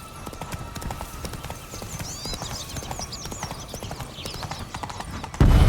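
A horse gallops in The Witcher 3 with steady, rapid clip-clop hoofbeats close and loud, brief bird calls overhead, ending in a sudden heavy burst of noise.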